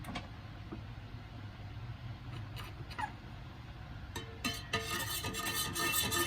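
Iced coffee with espresso, ice cubes and peppermint mocha creamer is stirred in a cup, with soft rubbing at first and then a burst of close, rattling scraping and clinking near the end.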